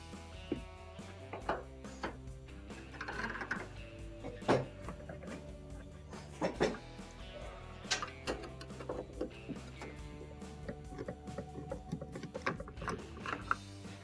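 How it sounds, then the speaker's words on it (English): Phillips screws are turned out of a GE washer console, giving a run of close, irregular metallic ticks and clicks with scraping and handling noise between them. "we have multiple Phillips screws in these holes. They'll have to be taken out in order to remove the console."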